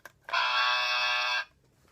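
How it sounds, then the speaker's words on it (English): A Britain's Got Talent toy buzzer sounds one loud, steady electronic buzz for about a second, starting and stopping abruptly, alone with no talk. "3 of these Britain's Got Talent buzzers"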